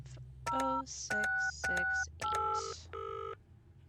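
Telephone keypad tones beep in the point-and-click game Penelope Pendrick, five crisp, evenly spaced dialing tones ringing out clearly over a faint background hum.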